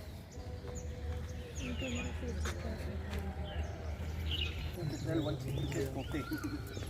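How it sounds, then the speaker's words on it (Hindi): Parrots call in a jungle with scattered bright chirps and squawks over a steady background hum, while a person talks throughout. "इस जंगल में तमाम तोतों की वैरायटी है।"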